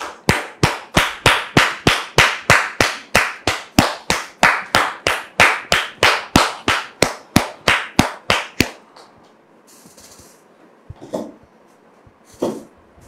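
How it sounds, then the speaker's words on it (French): A studio audience at a French-language talk show claps in a quick, even rhythm for about eight seconds, then falls quiet apart from a few faint stray sounds. "recevoir Dame Sephora, l'épouse de M. Kokora, sous vos applaudissements."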